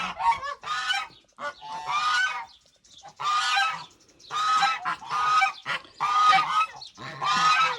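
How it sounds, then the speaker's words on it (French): Loud, repeated honks from domestic geese and ganders in bursts of several calls, close by, with short pauses between volleys. "J'ai 2 autres jars et une oie."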